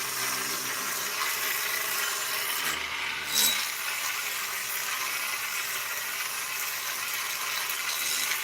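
Sandpaper is worked inside the intake of a Stihl 660 chainsaw during assembly, a steady, close, hissing scrub that continues evenly for several seconds with one brief bump partway through and no talk.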